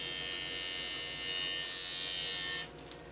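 A tattoo machine buzzes steadily at close range while shading with black-and-gray wash, a bright constant electric whine that cuts off abruptly near the end, leaving faint room sound.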